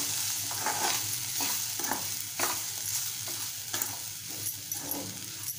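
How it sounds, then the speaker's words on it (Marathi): Roasted semolina is stirred into softened tomatoes for tomato upma, with quiet scraping and clinking stir strokes over a low sizzle in a pan. "आता आपण जो रवा भाजून घेतलाय तो घालून घेऊया। मिक्स करून घेऊया।"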